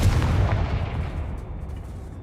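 Confringo, an explosive spell in the Hogwarts Legacy video game, goes off as a single deep rumbling blast that decays over about two seconds, loud and alone.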